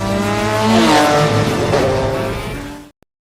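A Porsche with a PDK dual-clutch gearbox accelerates hard, engine note climbing through rapid gear changes in one loud, close, continuous roar that cuts off abruptly, followed by a single click.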